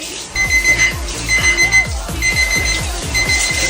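A dumbbell-shaped alarm clock rings loudly and close by in repeated rapid pulsing bursts, with a steady high tone over a rhythmic low buzzing beat.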